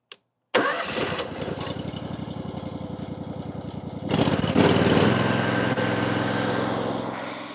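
Small gas engine on a Whisper Wash surface cleaner pressure washer pulled to life after a brief tug, then running steadily with a loud, close, rapid chug that grows rougher and louder partway through.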